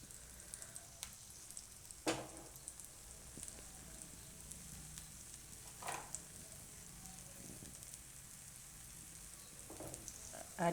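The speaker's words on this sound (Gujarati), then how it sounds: "તો આને આપણે સાઈડમાં તેલ નાખીશું અને પકાવી લેવું." Bajra (pearl millet) uttapam topped with sesame seeds cooks in oil drizzled around its edges on a pan over a raised gas flame. A soft, steady sizzle runs throughout, with a few brief crackling pops.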